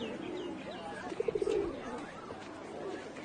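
A pigeon or dove coos in a short burst of soft, rapid notes amid faint background noise, followed by a quieter single coo shortly after.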